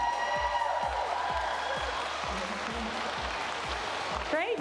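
Applause and light cheering for a junior robotics team at a school competition, a steady crowd wash heard at a distance beneath a regular low thumping beat from the venue's sound.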